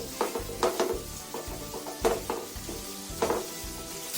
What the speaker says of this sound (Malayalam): അതിനുശേഷം നമ്മൾ സവാള ഇട്ടു. നന്നായിട്ട് നമ്മൾ ഇളക്കി കൊടുക്കും.